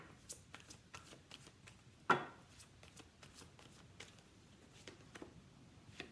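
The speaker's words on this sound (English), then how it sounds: "Y'all see me shuffling and pulling with these decks." Tarot decks being shuffled and handled: soft, quick riffling clicks and taps in an uneven rhythm, close and quiet, with one sharper snap near the middle.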